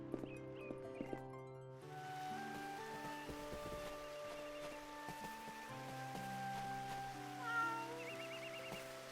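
Cats meow in a town in the video game Eternal Sonata, with a few short meows at the start and again near the end, set against steady background music.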